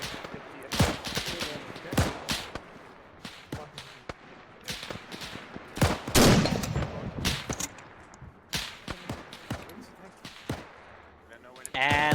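Repeated gunshots and bursts of rifle fire ring out in a Raate Road battle in a squad-based war video game, sharp cracks scattered irregularly at varying distances, some close and loud, with voices speaking among them.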